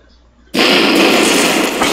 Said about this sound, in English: Oh! Yeah, it crashes. Dang, that was a big explosion.